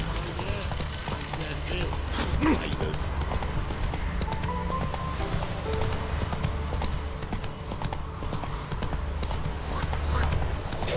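Horse hooves trot in a steady clip-clop rhythm through The Witcher 3, continuous and fairly close under a dense game soundscape, with a brief spoken line.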